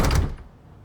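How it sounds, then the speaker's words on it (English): A door opens as a single dull thunk with a brief creaky release, close and loud, fading quickly into quiet room tone. "She opened the door for me and Sasha to stroll out into the bright afternoon."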